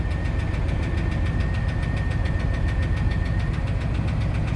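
A 1975 Pontiac LeMans engine runs steadily up close, a constant rumbling drone with a fast, regular ticking pulse throughout.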